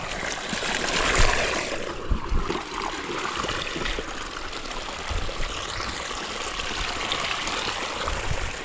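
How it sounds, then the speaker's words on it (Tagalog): Water rushing through an irrigation channel on a farm field, a steady broad gushing flow with occasional low splashes, close and continuous. "Malakas po itong lalabas sa tubig dito."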